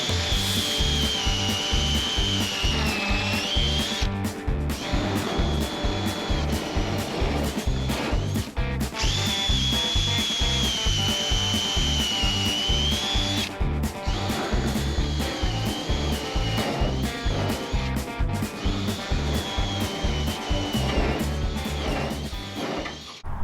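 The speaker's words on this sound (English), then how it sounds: "I'm going to go ahead and drill this out, put the carriage bolts in," A power drill bores through wooden trailer deck boards, its motor whining steadily and loud in repeated long runs with brief pauses between holes.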